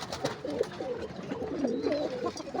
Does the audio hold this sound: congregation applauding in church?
no